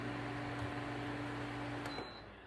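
Woozoo electric fans running, a steady low hum with broad airy whoosh and faint tonal whine, continuous and close, easing slightly quieter near the end.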